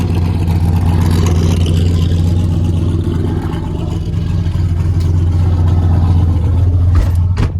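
A big-turbo Subaru Forester race truck's engine drones loudly and continuously, rising and falling in pitch as it revs up while driving.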